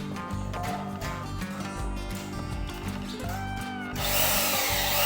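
A power drill drives screws into the metal frame of a gypsum board ceiling in a tin-roofed house. The motor whines steadily at close range in pulsing bursts, and a harsh rising grind comes near the end.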